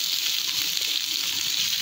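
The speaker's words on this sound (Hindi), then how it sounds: "एक पैन में थोड़ा सा ऑयल डाल लें, इसके अंदर अभी अदरक और लहसुन का पेस्ट डाला कि मैंने, इन दोनों को थोड़ा सा भून लेंगे" Ginger and garlic paste fries in oil in a pan, giving a steady, close hiss of sizzling with no talk.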